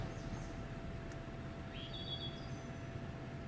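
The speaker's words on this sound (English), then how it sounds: "Just heard a wood thrush." A faint, distant wood thrush song rises briefly through a steady hum of background noise, a short fluting phrase heard far off.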